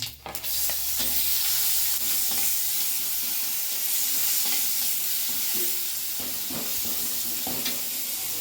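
Onion paste hits hot oil already holding bay leaf, whole dried red chillies and panch phoron, giving a loud, steady sizzle with scraping stirs throughout, no one speaking.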